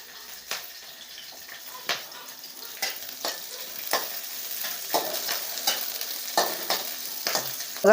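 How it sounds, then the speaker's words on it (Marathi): Green chillies sauté in hot oil for a Marathi tomato-chilli thecha, giving a steady soft sizzle broken by repeated light stirring scrapes and a few pops, close and fairly quiet. "टाळा बसेपर्यंत मी अशा परतून घेतलेल्या आहेत बरं का मिरच्या"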